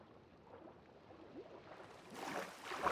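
Rain falls steadily in a modded multiplayer Minecraft world, a soft, even hiss that swells and grows louder near the end.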